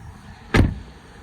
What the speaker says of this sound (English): Now listen to the noise when I shut the boot. It's got a nice solid clunk